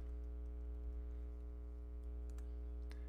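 Email addresses are typed on a computer keyboard in short bursts of light, quick key clicks, some clustered near the end, under a strong steady electrical hum.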